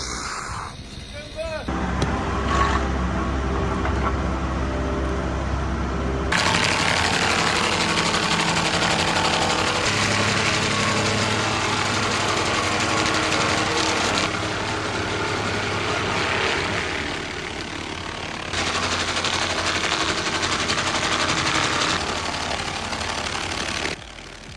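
A stump grinder on a 2019 Wacker Neuson machine chews through a pine stump, a loud, continuous engine-driven roar and grinding rasp that rises and falls as the cutter bites, with no pauses.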